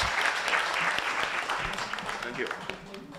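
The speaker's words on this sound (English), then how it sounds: "A big round of applause for him as he comes to give us his opening remarks." Applause fills a conference hall in Kenya as a speaker comes up to give opening remarks, a steady crowd clapping with scattered voices underneath.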